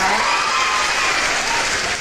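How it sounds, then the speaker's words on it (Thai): Loud, steady applause from an audience at a lively Thai entertainment stream, a dense wash of clapping that fills the whole stretch without break. "ขอเสียงปรบมือดังๆให้กับการไลค์ของชาลีและกามินในวันนี้ด้วยนะคะ"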